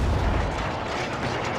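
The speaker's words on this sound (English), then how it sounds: "You guys do see our artillery coming in there." Heavy artillery shells bursting in the war game Warno, a dense rumbling roar of overlapping explosions that stays loud and unbroken throughout.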